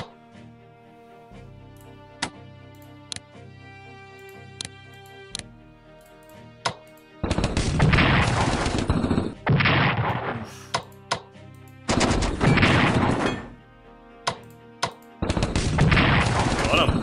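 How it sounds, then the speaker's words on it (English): Artillery fires in the Strategic Command strategy game: sharp isolated bangs over quiet music, then several long bursts of loud rolling gunfire and explosions with gaps between them. "Alright, this artillery can load up and we can go for the capital"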